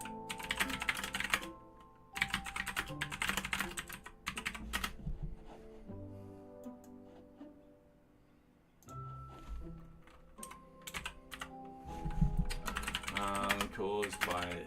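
Fingers type on a computer keyboard in quick bursts of clicking keys, separated by short pauses, during a live coding session on JavaScript and Python, with a voice talking over part of the typing.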